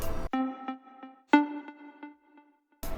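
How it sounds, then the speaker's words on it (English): Short plucky block chords from a third Flex synth preset in FL Studio for electro house, a rhythmic pattern of stabs with decaying tails and gaps between hits, heard alone. "I also have this third block preset from Flex."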